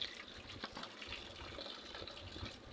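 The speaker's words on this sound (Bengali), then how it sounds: "তো দেখো আমি ধুয়ে নিচ্ছি" Fresh vegetables being rinsed in water for a winter khichuri, with a steady, faint wash of running and splashing water throughout, with no voice.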